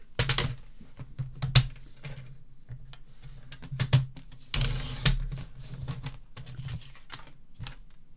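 Shiny black card stock being trimmed to size, with a series of sharp crisp clicks and snips close by, irregular and punctuated by a few louder rustling bursts.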